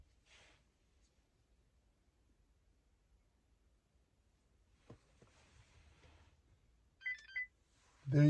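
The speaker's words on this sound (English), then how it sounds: "you're going to listen for a beep" An OBD2 key fob programming tool plugged into a 2015-or-later GM truck gives short electronic beeps, a quiet chirp early on and a clearer pair of tones near the end, in an otherwise near-silent cab with faint rustling.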